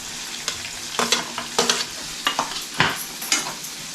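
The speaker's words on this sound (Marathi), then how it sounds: "कांदा लाल करायचा बघ" Onion frying in a pan with chilli, a steady sizzle broken by repeated scraping stirs at an uneven rhythm, close and clear with no voices.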